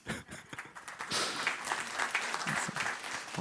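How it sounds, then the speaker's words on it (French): An audience at a tech conference talk claps in a brief burst: sparse at first, then swelling into steady, moderately distant applause that continues to the end. "On peut l'applaudir."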